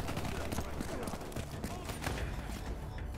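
Rapid gunfire from a gun in Call of Duty: Black Ops III, dense bursts of shots running continuously throughout, loud and close, with voices talking underneath.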